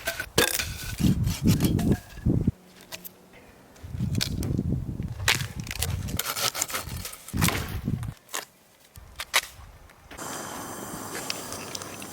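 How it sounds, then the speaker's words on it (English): Firewood being split and processed outdoors in bitter cold of about -22C, with sharp, loud cracks and thuds at irregular intervals, separated by duller handling and shuffling sounds, and no talking. "So I'm going to stop talking and start processing up this wood"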